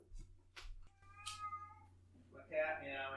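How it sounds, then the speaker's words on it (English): A pet cat meows several times indoors at close range, short separate cries followed by a longer, rising call, with faint background hum between them. "My cat meowing."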